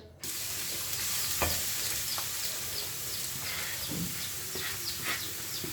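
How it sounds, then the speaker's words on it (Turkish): Steady sizzling and crackling of onions frying in hot oil in a pot, with occasional soft stirring scrapes; no talking. "Hemen tencereme soğanlarımı indireceğim."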